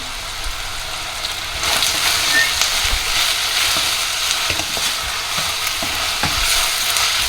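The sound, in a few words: onions sautéing in a pot for chicken curry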